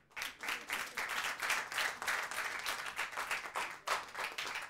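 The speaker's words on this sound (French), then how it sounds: "Applaudissez pour lui." A live comedy audience applauds, with several seconds of loud, dense clapping from a crowd and no talking.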